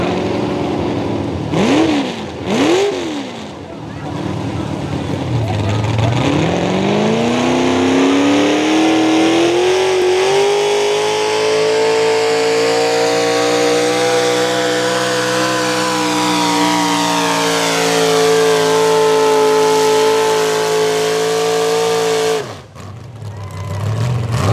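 A Farmall tractor roars under heavy load at a truck and tractor pull, engine revving up and holding a loud sustained drone for over ten seconds before dropping off near the end.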